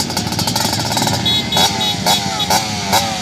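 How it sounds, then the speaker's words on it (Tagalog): Motocross motorcycles revving at a rider demonstration during a motocross event in Nueva Ecija: loud, close engines roaring steadily, then several sharp revving bursts in a repeating rhythm. "Demonstrate ang kanilang mga motor."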